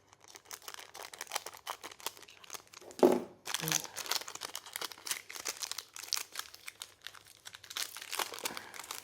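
A promo trading card from a Quest Master Revival board game unboxing gets its plastic wrapper torn open, with close crinkling and crackling that runs through the whole stretch and a sharper rip near the middle.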